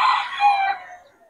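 A bull stag rooster from a farm lets out a single loud, close crow that rises, holds, then tapers off over about a second, with no talk over it.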